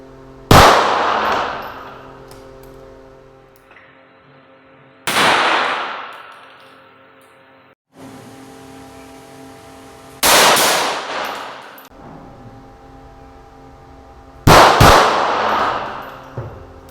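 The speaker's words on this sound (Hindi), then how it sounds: "फाइव शॉट्स और मैगजीन एम्प्टी करने के बाद" A pistol fires on a 25 m shooting range as the magazine is emptied: loud, sharp shots spaced several seconds apart, each with a ringing decay, and no talking.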